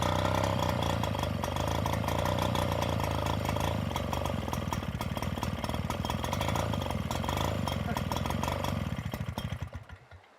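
A Wildfire Mark III portable high-pressure pump engine runs at a steady idle while cooling down: a loud, close, continuous motor drone that holds level, then dies away in the final second as it shuts off.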